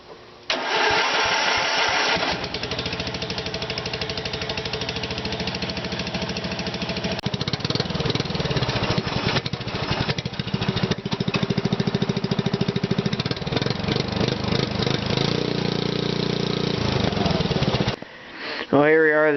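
Murray offroad lawn tractor engine cranks briefly, then catches and runs steadily and loud for most of the clip, fresh carburetor fitted, with some uneven surges before it cuts off near the end.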